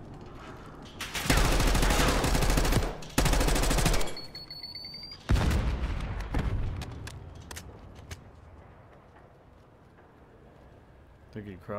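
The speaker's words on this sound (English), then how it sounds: "Yo, Bolt's shooting." Bursts of automatic gunfire from the Black Ops 6 video game in a 1v1 search-and-destroy match, loud and close in two long volleys, followed by softer scattered shots and game noise as voices talk over it.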